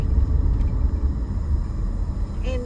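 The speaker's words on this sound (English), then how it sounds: "Y'all probably hear my air conditioner kicking on." A car's air conditioner blowing inside the cabin, giving a steady low rumbling whoosh that runs continuously under the road and engine noise, close and even in level throughout.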